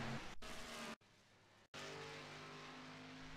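Stock car in an iRacing Cup Series race at Texas spinning out of turn 2, a steady loud engine roar that drops out briefly twice, with faint tire scrub and no voices.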